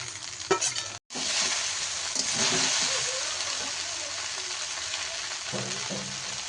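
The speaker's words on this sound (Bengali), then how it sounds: "পাস্তাটা আমি কিছুক্ষণ নেড়েছি, আর ওর মধ্যে দিয়ে দিচ্ছি ভেজে রাখা ডিম।" Pasta tossed with fried egg in a hot pan for a breakfast dish, a loud continuous sizzle with stirring scrapes, briefly cut off near the start, then sustained hissing to the end.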